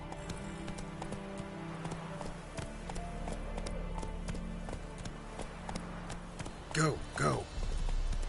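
Horse hooves clip-clopping at a run in The Witcher 3, a steady rhythmic patter under game music, with a person calling out briefly near the end.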